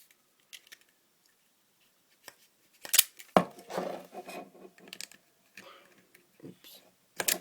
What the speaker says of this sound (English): And then have a go with a craft knife.